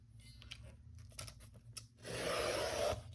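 A paper cutter slicing a 4.5-inch strip of paper for a small handmade fall journal: a quiet tapping start, then a rough, swelling scrape of the blade lasting about a second, close and alone.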